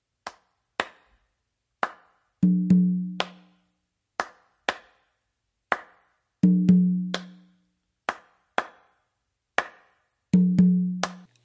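Patato-style conga tumbao locks onto a clave: sharp slaps and taps repeat in a steady loop, with ringing open tones on the low tumba landing in every phrase, close and clear with no voice.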